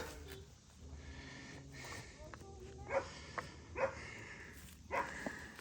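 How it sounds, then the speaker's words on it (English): Excited dogs snort, whimper and give a few short yips and barks in irregular bursts, moderately close, while people talk nearby. "The dogs are excited about Izzy getting up in their business"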